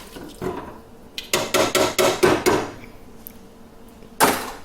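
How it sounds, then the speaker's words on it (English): Canned tomato puree and diced tomatoes are tipped into a cooking pot, producing a quick run of about six wet, thudding plops and knocks in a rhythmic burst, with another thud a moment later, close and moderately loud. "I'm going to add 2 28 cans of the tomato puree and 2 28 cans of diced tomatoes"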